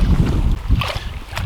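Wind rumbles against the microphone on an overnight kayak trip in the UK, a steady low buffeting close by with a few brief splashy bursts.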